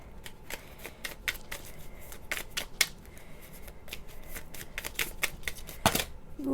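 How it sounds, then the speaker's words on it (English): Tarot cards shuffled and drawn from a deck, a quick run of close, crisp riffling flicks and slaps in uneven bursts, with brief pauses between handfuls. "Now let's take a few cards from this deck."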